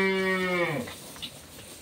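A high-quality breed dairy cow at Bhai Bhai Agro farm lets out one clear, drawn-out moo that falls in pitch and fades, close by, followed by quiet farm background.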